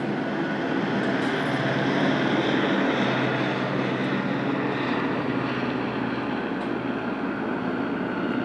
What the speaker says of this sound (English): Wow, helicopter.